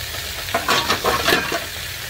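Goat meat being stirred with coffee in a hot pan gives repeated close scraping stir strokes over a steady sizzling fry.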